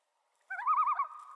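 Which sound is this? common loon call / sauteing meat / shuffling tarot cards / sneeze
common loon call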